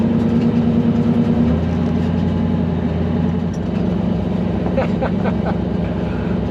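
Twin-turbo Hemi car engine revving hard and accelerating through first and second gear, a loud, steady low rumble with a rising pitch and a gear change partway through.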